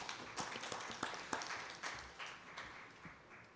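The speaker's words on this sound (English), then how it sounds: "Give a hand clap." Audience applause at an East Africa capital markets conference: a steady wash of many hands clapping at moderate distance, with scattered sharper claps standing out, lasting the full few seconds without talk.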